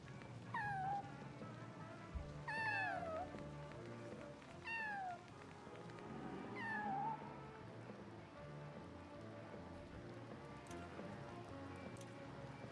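Cats meow in the LEGO Batman video game, four separate distinct falling mews spaced a couple of seconds apart over a quiet background of game ambience and patter.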